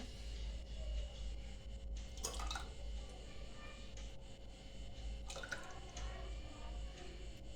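Thick ragi (finger millet) ambil being poured into a glass: a soft, wet splashing pour that swells briefly twice over a steady low background hum, with no talking.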